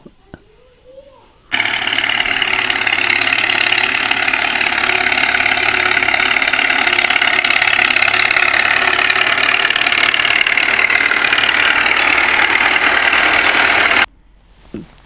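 An old Fiat tractor engine running loud and close, a steady rhythmic chugging idle that starts abruptly, holds for about twelve seconds, then cuts off.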